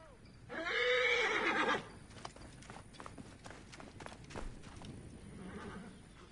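Horse in Assassin's Creed Origins gives one loud, close whinny, followed by scattered hoof clops and light movement noises at lower level.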